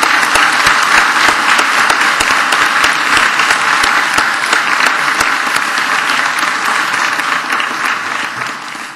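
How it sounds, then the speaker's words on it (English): A large audience applauds after a university debate on the 2008 election, a dense, loud, sustained roar of clapping that holds steady and only slightly fades toward the end. "A round of applause for both Professor Bradley."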